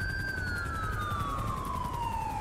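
A police car siren in GTA 5 with the LSPDFR mod wails in one long, steady, slowly falling sweep. It sounds loud and close, with no talk over it.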